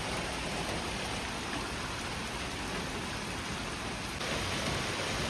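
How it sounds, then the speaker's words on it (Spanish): Heavy rain pours down just outside an open shop door, a loud, constant hiss of water striking the ground with no pauses and no voices. "Pero miren qué bonito, cómo llueve, qué lindo."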